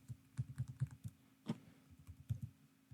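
Computer keyboard typed at a desk while troubleshooting a JavaScript countdown timer app, a sparse run of close, soft key clicks with uneven rhythm and short pauses, no talking.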